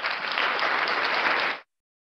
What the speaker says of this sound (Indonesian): Haleluya, berikan tepuk tangan untuk Tuhan.